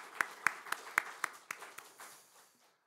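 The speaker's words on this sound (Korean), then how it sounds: "우리 격려의 박수를 보내주면 감사하겠습니다" A small church congregation gives a brief, thin round of applause: a handful of distinct, evenly spaced claps that soften and trail away into quiet, heard somewhat distantly.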